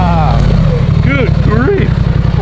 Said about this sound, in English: we see a one-armed figure riding a quad waving to us down the beach